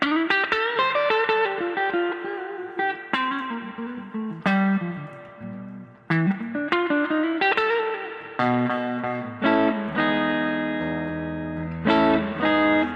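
An electric guitar plays single notes and bends through a Koch "The Greg" signature amp with heavy, deep reverb, each note ringing out and trailing off in a long wash.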